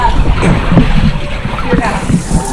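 Water sloshes and splashes as boats move past a pontoon boat at Pictured Rocks, with wind buffeting the microphone and people talking over it.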